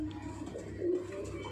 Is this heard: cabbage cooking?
no